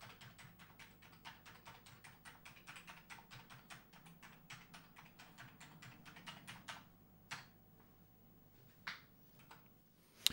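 Keys on an Amiga 600 computer keyboard are pressed one after another in a steady run of crisp clicks being tested, then a few sparse taps, with no voices.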